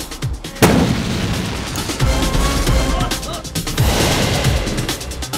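A bomb attack explosion sound effect, set on a main road in broad daylight, opens with a sudden loud blast, then continues as a sustained rumble with scattered low thuds and crackling debris.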